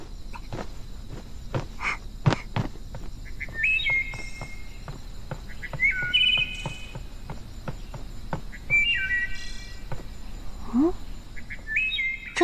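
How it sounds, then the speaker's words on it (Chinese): Birds chirp at night in a repeated pattern of short bright calls every couple of seconds, over a steady bed of crickets and insects, with soft footsteps and no talk. "这大晚上哪来的鸟鸣声啊？"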